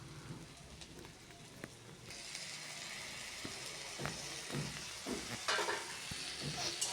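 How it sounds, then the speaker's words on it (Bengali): Mustard and poppy seed paste goes into a kadai of frying potato and eggplant, bringing a sudden rise in soft hissing sizzle with scraping stirs, faint and close, continuing steadily. "আগে থেকেই আমি সর্ষে পোস্ত দেখো এই যে বেটে রেখেছিলাম সেটা এবারে কড়াইতে দিয়ে দিচ্ছি"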